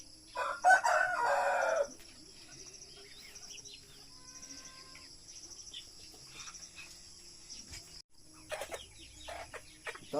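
A large, plump Cobra chicken lets out a loud, close crow, followed by softer scattered clucks from the flock over a quiet rural background with crickets, and a few louder bursts near the end.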